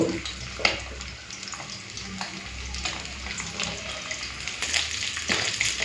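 Eggplant rubbed with salt and turmeric fries in hot oil in a wok, a steady close sizzle and crackle with occasional sharper spits throughout.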